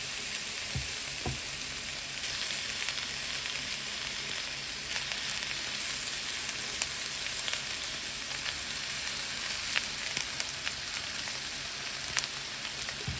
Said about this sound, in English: Alright, so we'll heat this meat up real good. Real nice saute.